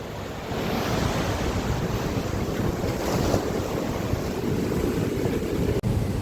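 Sea waves roll in at Kovalam beach, giving a continuous, loud rushing wash of surf mixed with strong wind buffeting the microphone, close and unbroken throughout.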